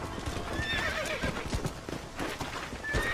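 A horse in the Red Dead Redemption game whinnies and its hooves clip-clop steadily at close range, with game ambience filling the background and no talking.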